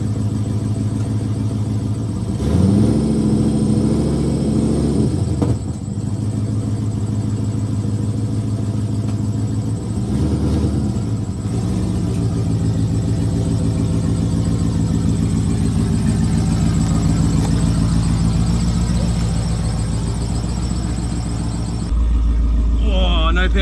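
A Nissan Patrol with a swapped LS1 V8 idles loud and close, a deep steady rumble with brief revs early on; a voice cuts in now and then over the engine.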